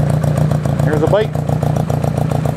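A 1983 Honda Goldwing cafe motorcycle engine idles loud and close, a steady throbbing rumble that runs the whole time, with a brief mid-clip rise in pitch like a blip of the throttle.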